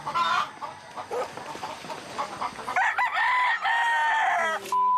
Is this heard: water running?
no